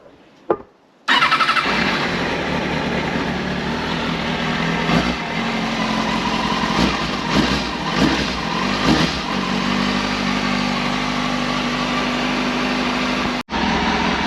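A Kawasaki Ninja ZX6R motorcycle engine cranks and fires after a brief click, then runs loud and close at a steady warm-up idle with a few small rev changes before cutting out near the end.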